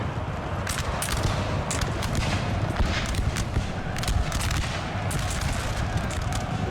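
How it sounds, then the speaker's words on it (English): Russian howitzers fire in a Napoleon Total War battle, a dense rumbling barrage of overlapping booms and crackling volleys that rolls on continuously at moderate distance. "Russians deploying their own howitzers."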